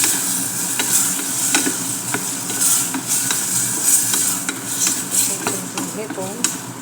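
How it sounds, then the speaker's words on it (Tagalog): Shrimp frying in a pan for tom yum soup, giving a steady close sizzle broken by repeated scraping and stirring clatter from a utensil against the pan. "Hayaan mo lang maluto ng konti yung hipon."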